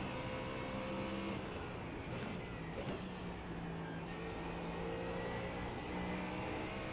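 A Ford Mustang engine drones steadily in a racing video game during practice laps on the Nürburgring Nordschleife, a continuous mid-pitched whir with slight rises and falls in revs.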